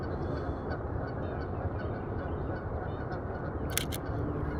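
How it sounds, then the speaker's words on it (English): Geese honk noisily in the distance at a park by a canal lock, their calls faint under a heavy, steady rumble of background noise throughout. "Those geese are going wild."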